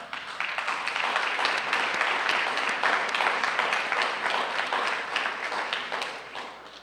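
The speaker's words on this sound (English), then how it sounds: "I'm going to say thank you for the clapping" Sustained audience applause at a community healthcare awards ceremony, a dense, steady wash of many hands clapping that holds for several seconds before gradually tapering off.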